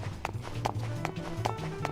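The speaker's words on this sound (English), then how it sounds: "why are the feet sounds so loud? The footsteps." The lead character's footsteps in a PS2 video game thud loudly in a steady, quick rhythm of about five evenly spaced steps over a low background hum, with no talk over them.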